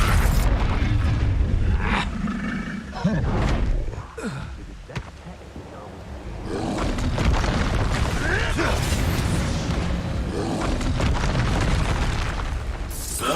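Expulso spell blasts from Hogwarts Legacy, deep booming explosions with bursts and rumble that run almost the whole time, loud and dense, with a brief lull partway through.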